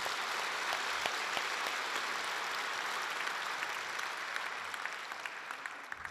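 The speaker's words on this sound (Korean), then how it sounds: "우리 하나님께 감사의 박수 올려드리면 좋겠습니다" Church congregation applauding in thanks to God during a Sunday worship service, a steady dense wash of clapping from a large crowd that fills the room and tapers slightly at the end.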